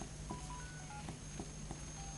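A telephone rings in a Pokémon video game as a series of short, quiet electronic beeps at varying pitches, repeating steadily with no one speaking.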